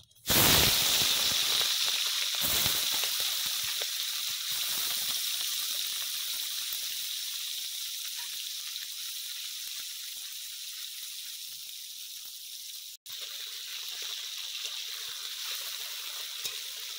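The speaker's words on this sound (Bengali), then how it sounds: "তেল গরম হয়ে গেছে, এবার মাছগুলো ভেজে নেব।" Small fish fry in hot oil with a loud, steady sizzle that bursts in at the start and then holds as a dense, even hiss for a long stretch. A brief click falls near the end.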